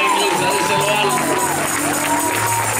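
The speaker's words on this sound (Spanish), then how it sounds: "Den un aplauso lindo, papá, iglesia, díselo alto." Church congregation applauding and cheering during a sermon, a loud, busy mass of clapping mixed with shouts and voices, with ringing tonal sounds and wavering pitched voices running through it.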